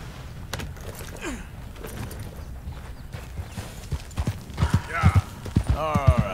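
A horse's hooves clip-clop in the video game Red Dead Redemption 2, soft at first and then growing into loud, rhythmic thuds as the horse speeds up, with someone talking over the later part.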